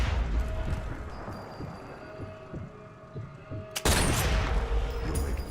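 Gunfire booms from Sniper Elite 4, a loud, boomy shot followed by a rumbling tail over continuous game sound and music, with a second heavy burst near the end.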